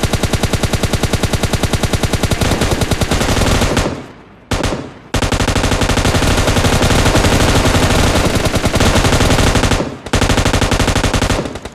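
Rapid automatic gunfire from a gun in a video game, loud sustained bursts with fast, steady rhythm, broken by two brief pauses and a short gap near the end; no voices over the shooting.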